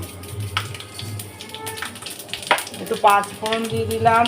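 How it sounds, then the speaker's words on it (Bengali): Panch phoron spices sizzle in hot oil in a kadai with a soft, steady frying hiss, punctuated by sharp taps and scrapes of a utensil against the pan, close by under a low background hum. "কড়াইয়ে তেল দিয়ে দিলাম আর একটু পাঁচফোড়ন দিয়ে দিলাম"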